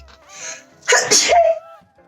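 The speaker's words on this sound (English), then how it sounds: "Who sneezes that cute?" A single short, high-pitched sneeze, close and clear, with a faint tonal squeak trailing after it in an otherwise quiet room.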